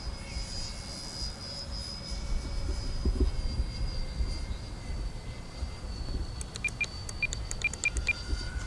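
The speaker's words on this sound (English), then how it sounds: "taking off the Freewing A10" A Freewing A-10 Thunderbolt II super scale model jet with twin 80mm electric ducted fans takes off, heard as a steady, fairly faint whine at a distance over outdoor rumble, with a few sharp ticks near the end.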